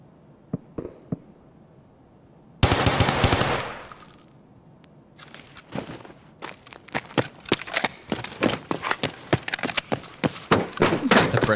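Unsuppressed gunfire from the shooter game Escape From Tarkov: a loud burst of automatic fire followed by a long run of sharp, irregular shots, some near and some more distant, with a few quieter thuds at the start.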